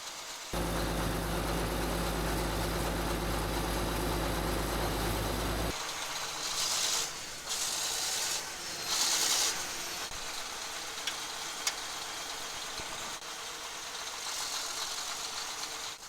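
A Caterpillar D8 dozer engine runs in the cold, a loud steady low rumble that suddenly changes character midway into a rougher, uneven chug with bursts of hiss and clatter.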